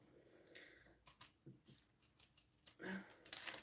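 Scissors trim the seam allowance of fabric before binding is sewn over the edge, giving a run of crisp close snips, several quick cuts in bursts with short pauses.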